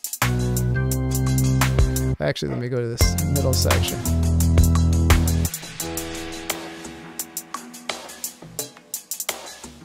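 An Ableton project plays back a jazz arrangement, with dense layered music and sustained low tones that drop out after about five seconds into sparse, sharp percussive hits, while a person talks over the playback.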